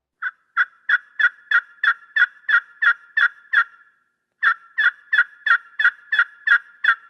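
Slate friction turkey call worked with a striker, producing two fast runs of sharp, evenly spaced yelps, about ten notes each, separated by a short pause, loud and close with no talking.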